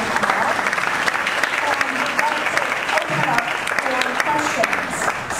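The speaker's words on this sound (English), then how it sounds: "So, big round of applause for Beckham." Loud, dense applause from an audience at a seminar talk, a continuous rush of many hands clapping at once that stays strong and even for several seconds with no speech over it.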